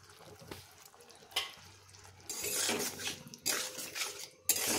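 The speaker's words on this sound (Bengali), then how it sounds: "এরপর একটু ভালো করে নাড়িয়ে নেব।" Masoor dal with curry leaves, Kashmiri chilli powder and a little sugar is stirred in a pot with a spoon, giving a few metallic clinks and scrapes, then a louder wet churning midway and a sharp clank near the end.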